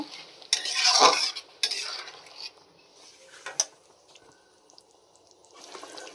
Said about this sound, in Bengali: ঘি দিয়ে দেবো কটা বাদাম ভেজে রেখেছি ছড়িয়ে দেব একটু নাড়াচাড়া করব